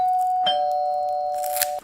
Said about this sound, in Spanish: Toqué el timbre y esperé a que abrieran.